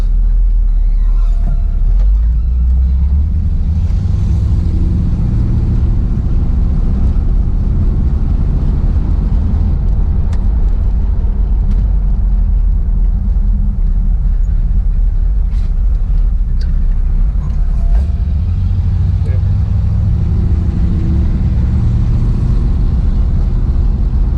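A restored 1957 Buick Century Riviera sedan on the move gives a deep, steady engine rumble with road noise that swells and eases slightly as it cruises, close and continuous with no talking.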